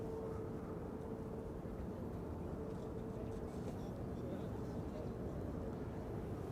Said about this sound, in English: This is KLM flight 1614, arriving from Milan, 737-800.